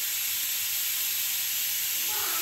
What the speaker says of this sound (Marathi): एकीकडे होत आहे कुकरची शिट्टी